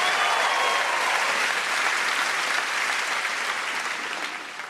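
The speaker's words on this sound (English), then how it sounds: "Can we have one more massive round of applause for Dan?" Loud, dense applause from a theatre audience at a UK stand-up comedy show, a sustained wall of clapping that holds steady and then gradually begins to fade.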